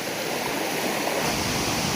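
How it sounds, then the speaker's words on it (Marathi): Ample water rushes along a small rural stream where crabs are caught, a loud, steady broadband gush filling the whole moment with no voices. "पाणी बराच आहे व्हाळात"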